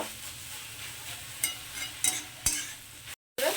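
Fenugreek greens with potatoes are stir-fried over high gas heat, giving a soft, steady sizzle broken by a few sharp scrapes and stirring knocks in the pan.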